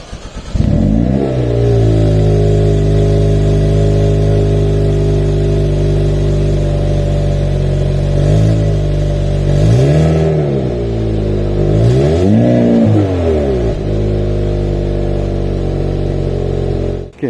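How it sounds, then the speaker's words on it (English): Exhaust note of a 2022 Hyundai Kona N, a loud, close engine drone with repeated rev swells and accelerations rising and falling over a steady rumble, with no talking over it. "let's take a listen to the exhaust note."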